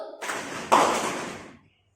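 A group claps and pats their thighs together, a short burst of slightly ragged percussive hits with one sharper loud slap midway, close by, then fading to silence.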